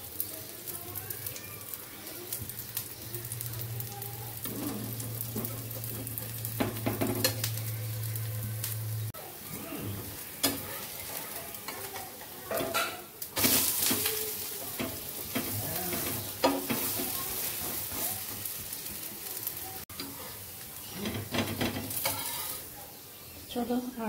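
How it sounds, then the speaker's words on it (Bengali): Dosa batter sizzles and fries on a hot pan in a home kitchen, a continuous crackling hiss with occasional stirring and utensil scrapes, faint birdsong in the background and brief talk. "চলো আর দুটো ভেজে নিই"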